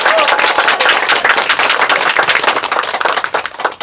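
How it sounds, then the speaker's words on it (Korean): An audience at a book talk with a poet applauds loudly, dense close clapping throughout that thins out toward the end. "여러분 큰 박수로 감사해 주시기 바랍니다"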